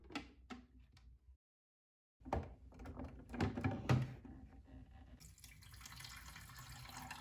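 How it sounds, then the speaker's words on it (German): The front-accessible water tank of a DeLonghi Dinamica Plus coffee machine is handled and filled: a few plastic clicks and knocks, a brief silence, then clattering thunks and a rising stream of running water, with no speech. "Wie ihr seht, lässt sich der Tank gut von vorne befüllen."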